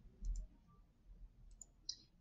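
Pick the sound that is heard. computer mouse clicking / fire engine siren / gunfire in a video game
computer mouse clicking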